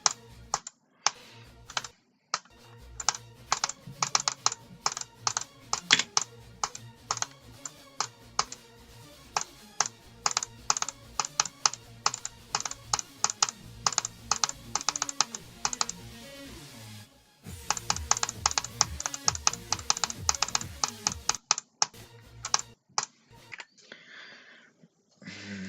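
Rapid, continuous clicking on a Logitech G512 computer keyboard, dense bursts of keystrokes with a brief pause midway, then another fast flurry, close and loud.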